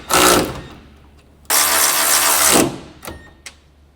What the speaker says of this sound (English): Use a medium 10mm shallow socket with an electric impact wrench. Tighten the grill mounting bolts.